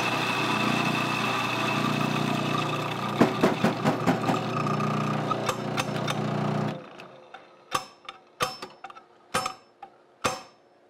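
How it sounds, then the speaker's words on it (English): An industrial coffee grinder grinds beans for Chemex brewing with a loud, steady motor roar for several seconds before shutting off, followed by scattered sharp knocks and taps. "What we're using right here is our industrial grinder at HQ."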